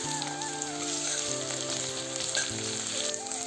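Onions added to hot oil with whole cumin seeds and flattened rice sizzle and crackle steadily up close, a dense frying hiss with faint background tones and no talk.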